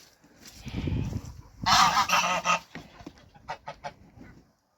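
Geese honk repeatedly, first in a loose chorus and then in a louder burst of overlapping calls, followed by a few sharper separate honks.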